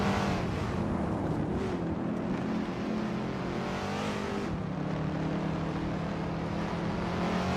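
Vintage street cars race around a track in a video game, engines droning and revving continuously at moderate distance with a steady mechanical roar and no voices.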